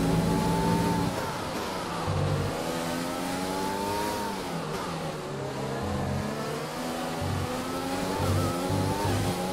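An F1 2020 race car engine with a worn power unit screams through repeated upshifts and revs during a Spanish Grand Prix, loud and close, each gear rising in pitch then dropping sharply.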